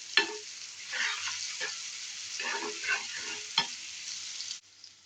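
Onions fry in a pan with a steady, close sizzle, broken by several sharp scraping and clattering stirs; the hiss stops abruptly near the end. No one speaks.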